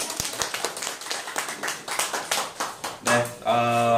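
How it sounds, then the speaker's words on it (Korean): Audience clapping for a professor at the start of a Wednesday lecture, a dense run of hand claps that ends in a sustained tonal sound. "박수도 크게 한번."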